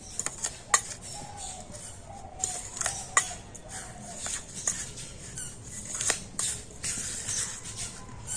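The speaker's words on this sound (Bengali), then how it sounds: "আর এখন আমি সমস্ত কিছু একটু ভালো করে মিশিয়ে নেবো" A spoon scraping and clinking against a bowl while semolina pitha filling is mixed with powdered sugar, with irregular close taps and a soft shuffling stir throughout.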